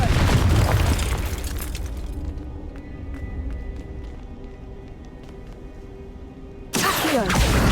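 A Confringo fire spell explodes in Hogwarts Legacy, a loud booming blast that decays into a long rumbling tail before another loud burst hits at the end.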